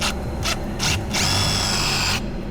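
A power drill with an injector cup cleaning tip for a Ford 7.3 diesel whirs in short bursts, three brief spins followed by a longer steady high-pitched run, close and loud with no talking.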